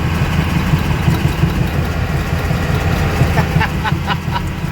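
A 1991 12-valve Cummins dually truck with a G56 six-speed and front-end death wobble drones loudly in fourth gear uphill at about 30 mph, a steady low diesel rumble from inside the cab with a few rattling knocks near the end.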